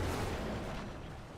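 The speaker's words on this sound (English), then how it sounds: "Just hear those explosions on Dev Trap" Explosions from a Death Trap in the video game Diablo IV form a brief, muffled low rumble of overlapping blasts that fades out over about a second.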